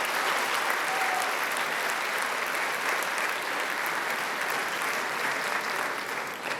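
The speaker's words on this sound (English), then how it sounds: "Please, a round of applause for the parents." Audience at a school graduation ceremony applauds the parents with steady, dense clapping that fills the hall, even and sustained throughout with no speech on top.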